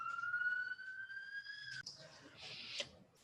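A faint, distant siren holds a steady wailing tone for under two seconds, then fades into muffled background noise.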